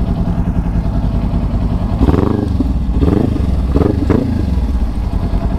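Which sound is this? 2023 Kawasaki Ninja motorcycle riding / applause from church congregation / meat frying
2023 Kawasaki Ninja motorcycle riding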